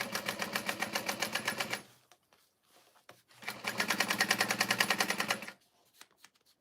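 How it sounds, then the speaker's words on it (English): A sewing machine winding its bobbin runs in two bursts of rapid, rattling mechanical whirring, each a couple of seconds long, separated by a short quiet pause, close and clear with no talking. "Is that the bobbin going? Sounds like it."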